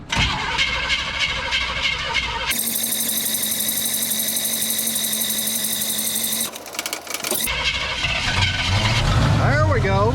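Engine of a homemade well service rig truck, fuel tank in the cab, cranks with a rapid whirring starter, catches and runs, then restarts and settles into a steady idle, close and loud.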